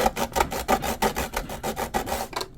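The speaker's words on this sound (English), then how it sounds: "sand it with this 60 grit" Coarse 60 grit sandpaper rubbed across carbon fiber for an RC twin hydroplane battery tray, a close, rhythmic rasp of about a dozen quick back-and-forth strokes that stop abruptly at the end.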